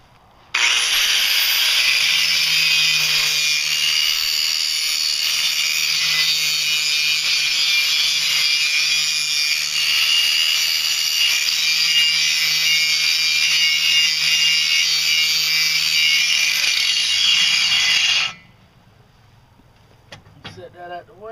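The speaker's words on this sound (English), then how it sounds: "I got my grinding rock on here, and what I'm gonna do is just grind this little edge right here, clean the rust off of it" Angle grinder with a grinding stone steadily scraping rust off a small metal edge before welding, loud and close, one continuous high whine lasting about eighteen seconds before cutting off.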